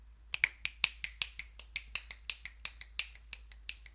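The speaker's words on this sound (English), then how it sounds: "this is the part where you would snap" Crisp finger snaps at a poetry cafe, around twenty in an uneven steady run, close and clear with no voices.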